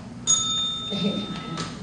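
A timekeeper's bell at a district candidates forum in Albuquerque rings once, a bright, sustained ring that fades over about a second and a half, with faint room noise underneath.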